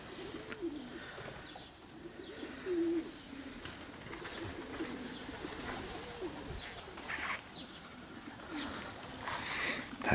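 Pigeons at a loft coo repeatedly in soft, throaty bursts, with faint chirps and light wing flaps in a quiet outdoor setting.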